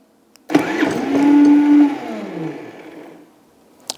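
A Predator 3500 generator fired by its remote start button: a sudden cranking burst catches into a rising engine whine that swells, then tapers off with a falling pitch, close and loud, followed by near silence and a brief click.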